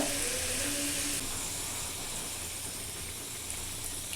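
Hot oil frying in a pan, a steady hissing sizzle with a brighter edge early on that then eases to an even, close wash of sound, with no talking.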